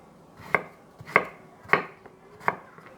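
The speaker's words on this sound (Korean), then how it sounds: "끝에 부분은 잘라주고 줄기 부분도 먹기 좋은 크기로 잘라주세요" Four evenly spaced knife chops cut broccoli stems into bite-sized pieces on a board, each a crisp near thud, with no talking.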